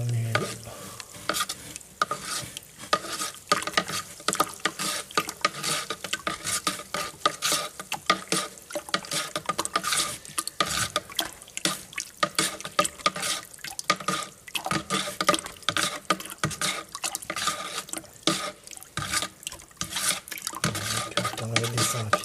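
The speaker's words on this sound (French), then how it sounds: "Je vais remuer l'eau." Water at 100 degrees being stirred in a pot, with continuous churning, bubbling and dripping water noise throughout, close and steady, with no talking.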